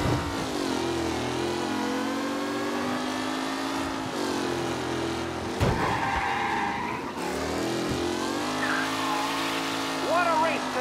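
Race cars skid and rev in Mafia Definitive Edition, steady engine whine with squealing tires and sliding, close and loud throughout, with an announcer talking over the action.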